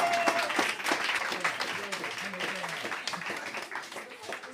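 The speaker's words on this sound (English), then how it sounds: "hold up your stethoscopes and give us a cheer" A science-festival quiz audience claps and cheers together, a dense crackle of applause with voices calling out over it throughout.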